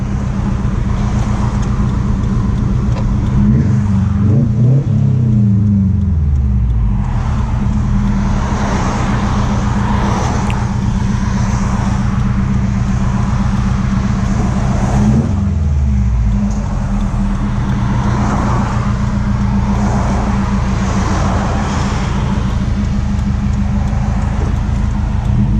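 A modified Subaru STI engine revs and accelerates loudly while driving, with a steady low drone, rising sweeps around the middle and again later, and road noise throughout; no talking.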